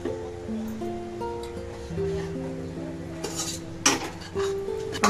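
A spoon stirs dal filling into melted jaggery in a pan, producing soft scraping and a few sharp metallic clinks against the pan over a low steady hum, close by.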